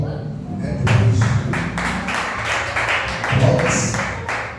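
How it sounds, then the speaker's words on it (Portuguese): A church congregation breaks into rhythmic applause, a crisp burst of many hands clapping that rises, dips and swells again, with voices speaking over it. "vamos receber a serva de Deus com as palmas do nome do Senhor Jesus"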